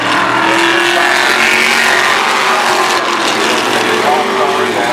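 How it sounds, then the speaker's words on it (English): Vintage All-Stars Sportsman class race cars, six on the track at Stafford Motor Speedway, roar continuously with loud engine drone and shifting pitch as they run through the turns, with a commentator speaking over them. "6 cars on the racetrack from the Vintage All-Stars Sportsman class"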